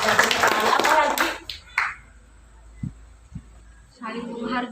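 Schoolchildren burst into brief hand clapping in a classroom. Dense applause follows a teacher's voice, then a few isolated taps, and more speech comes at the end.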